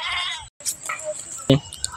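A goat bleats briefly amid a comic scene of a stolen goat, a short nasal cry heard under and between loud, agitated human voices.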